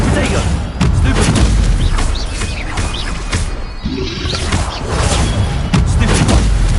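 Spell blasts in the Hogwarts Legacy video game, with repeated booming impacts and thuds in a dense, loud stream of combat effects, while a person shouts over the action.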